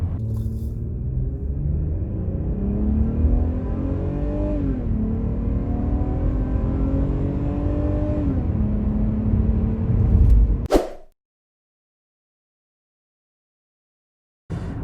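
A Renault Samsung SM7 New Art's 2.3-litre six-cylinder engine revs hard under acceleration, rising in pitch through several gear shifts before cutting off abruptly into silence.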